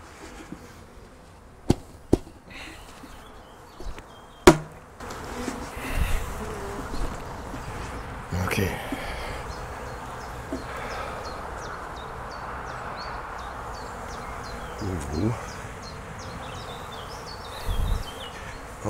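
A swarm of dark Nordic honey bees (Apis mellifera mellifera) being shaken into a leaf hive outdoors, giving a steady close buzzing hum that continues throughout, with a few sharp knocks and thumps early on.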